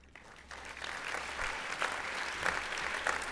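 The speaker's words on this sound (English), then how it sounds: "You don't need to clap every time I cry." An audience at a gala dinner and awards celebration claps steadily, the applause rising quickly and holding as a dense, moderately distant patter through the room.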